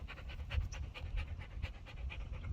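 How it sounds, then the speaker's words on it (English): Livestock guardian dogs pant in quick, steady rhythmic breaths, close by outdoors, with low rumbling background noise. "Awesome guardian livestock dogs."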